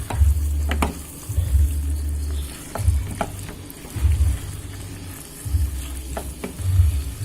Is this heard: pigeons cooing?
no